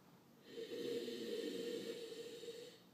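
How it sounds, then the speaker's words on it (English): One long, soft inhale is drawn through the nose over a glass of swirled red wine, a steady breathy sniff lasting a couple of seconds in a quiet room. "Let's take a little sniff here."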